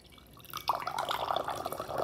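Water trickling and dripping from a homemade straw water dispenser, small irregular plinks and a steady light splashing close by for a couple of seconds.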